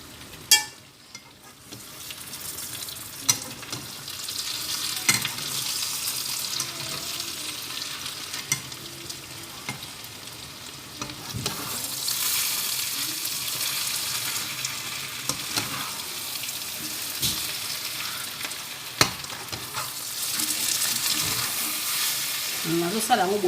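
Potatoes fry in hot oil in a home kitchen, giving a steady loud sizzle and crackle with occasional stirring clatter throughout, no talking.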